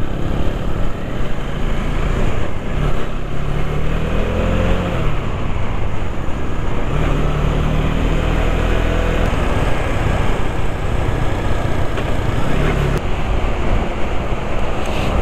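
A motorcycle riding along a mountain road, its engine droning steadily and loudly throughout with gently rising and falling pitch, mixed with rushing wind noise.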